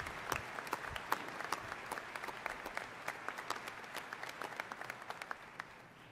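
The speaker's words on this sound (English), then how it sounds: "I'd like to just ask for a round of applause for the Chancellor." A steady round of applause from a sizable crowd at a commencement ceremony, many hands clapping at once, fairly distant and gradually tapering off toward the end.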